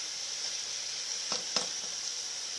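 Thick-cut meat sizzles and fries steadily in a pan for a Cajun gravy, a constant close hiss with two brief crackling pops near the middle and no talking.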